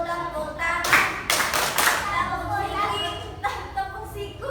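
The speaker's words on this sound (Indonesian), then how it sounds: "Tepuk pundak, tepuk siku, tepuk tangan." Classroom children pat their shoulders and elbows and clap their hands in a group rhythm game, bursts of mixed claps and slaps over the children's chanting voices.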